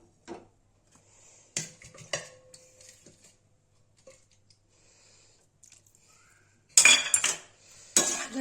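Milk and curd are stirred in a pan, with scattered spoon clinks and soft wet squishing sounds broken by quiet gaps, then a louder burst of clattering toward the end.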